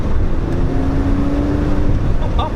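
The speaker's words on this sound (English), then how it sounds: "This flat 6 is man, it's quick to 4 grand, but past that it turns into a monster." A 2008 Porsche 911 S flat-six engine pulls hard under acceleration, a steady loud drone with a rising tone running through it, heard from inside the car.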